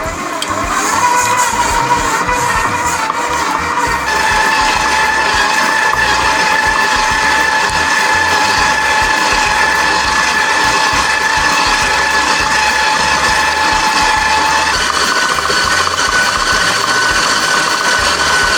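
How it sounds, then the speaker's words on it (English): Stand mixer creaming butter with granulated sugar for an Oreo pound cake batter, a steady, loud mechanical whir with a constant motor tone running unbroken throughout. "Then you want to cream it together for 7 minutes until light and fluffy."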